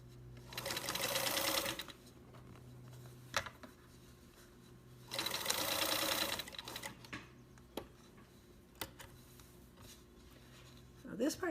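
A sewing machine stitches a drawstring bag in two loud, rapid bursts of whirring needle action, separated by quieter handling clicks and thumps, with a person talking at times.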